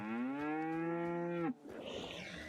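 A game cow lets out one long, loud moo with a steady harmonic tone lasting about a second and a half, ending abruptly, then a softer rustling background follows.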